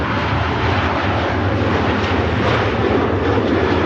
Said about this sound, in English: Ryanair on the return to Vorkla. Long roll.